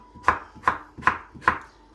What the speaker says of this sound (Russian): Режем грушку.